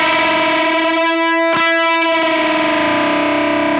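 Distorted electric guitar sustaining a unison bend, two close pitches beating with a wobble that shifts speed as the bent string drifts, with a brief pick attack midway; loud, continuous and alone.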